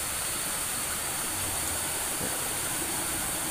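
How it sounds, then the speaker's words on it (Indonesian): A river stream flows beneath a traditional stilt house, a steady broadband rush of water that runs alone and unchanging throughout. "di bawah sana ada aliran sungai yang membuat nuansa semakin nyaman dan tenang"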